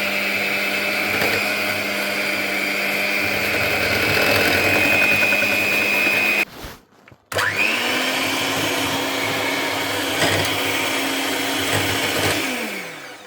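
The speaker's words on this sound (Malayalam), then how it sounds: "ബ്ലെൻഡർ ലോ സ്പീഡിലിട്ടിട്ട് നല്ലപോലെ ബ്ലെൻഡ് ചെയ്തെടുക്കണം" A blender runs on low speed through cream, giving a steady close whine that cuts out for a moment midway and then restarts, holding a lower tone before spinning down at the end.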